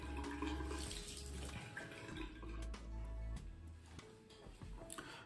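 Water splashes and trickles continuously as a face is wetted at a sink before shaving with a 1920s–30s Gillette Pocket Edition razor, with running water and small drips, close and fairly quiet.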